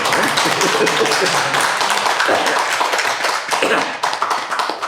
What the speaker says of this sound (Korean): 우리 한 번 다녀오는데 축복이 박수 좀 한번 쳐듭시다